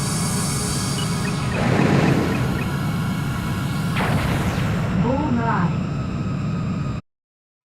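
Missiles and gunfire in aerial combat in the video game Ace Combat 3: a loud, continuous roar with heavy blasts and bursts, and a whooshing sweep near the end before the sound cuts out abruptly.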